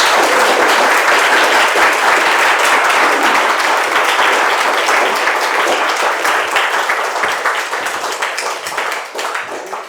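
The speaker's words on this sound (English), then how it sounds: "if everyone could just sort of, give Anne and Pat a round of applause" Sustained, dense applause from an audience at an art exhibition opening, loud and close. Many hands clap together for about ten seconds, then slowly thin out toward the end.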